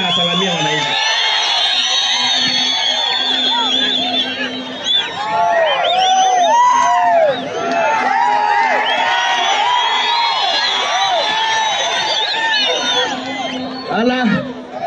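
A large outdoor crowd at a political rally in Narok South, Kenya, cheers and whoops to welcome Isaac Ruto, with dense overlapping voices and shouts holding loud and steady throughout.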